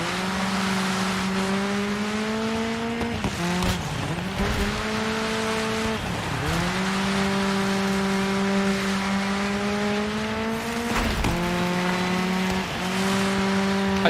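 A French racing car in the Dirt 5 video game revs continuously under load, its engine pitch climbing and dropping with repeated gear shifts, with tire noise mixed in, loud and close with no talk.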